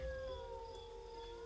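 A dog howls in the video game Assassin's Creed 3, a long steady wailing tone that slowly falls in pitch, heard alone over a low background rumble.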